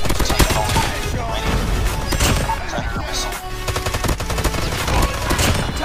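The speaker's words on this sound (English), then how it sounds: "Oh my god, they are sniping." Rapid gunfire in a video game crackles almost without pause, loud and dense, with sharp repeated shots layered over a busy, noisy battle soundscape.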